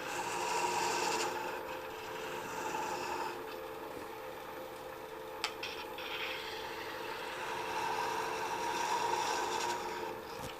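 A gouge cuts a small nub off a wooden ornament spinning on a wood lathe, a soft continuous scraping rasp over the steady hum of the machine, fairly faint and even.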